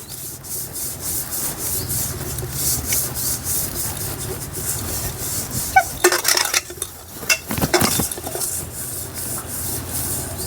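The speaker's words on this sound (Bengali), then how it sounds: "সাদা তেলটা ভালোভাবে পাত্রের গায়ে মাখিয়ে নেব।" Fingers or a utensil rub white oil around the sides of a metal cake pan, a continuous scraping, rasping sound close by, with a few louder clanks and scuffs partway through.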